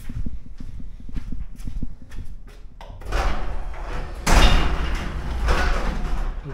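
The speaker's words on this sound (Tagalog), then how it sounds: "Kailangan kong buksan guys yung konti yung pintuan ng garage" A garage door being opened partway, a rattling, rolling metallic slide that swells in a long grinding sweep with a louder clunk midway, following a stretch of lighter knocking and shuffling close by.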